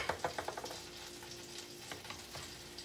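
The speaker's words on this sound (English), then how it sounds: "Put some more butter in the pan." Butter sizzles in a frying pan for holiday French toast, a steady close crackle with a quick run of light taps at the start, soft and unbroken, no talking.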